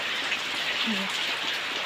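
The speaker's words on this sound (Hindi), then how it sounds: "पूरे दिन से बारिश बंद नहीं हुई है" Steady rain falling in a Himachal village, a constant soft hiss of drops on surfaces with a brief faint low sound midway, quiet and continuous with no talk.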